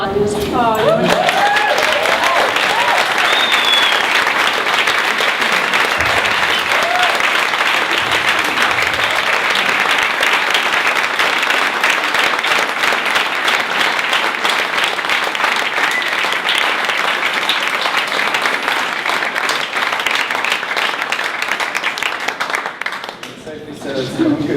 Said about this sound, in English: It's the longest applause we've had at every show.